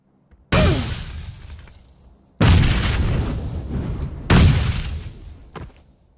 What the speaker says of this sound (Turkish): Bomba atacağım şimdi. Bomba geldi.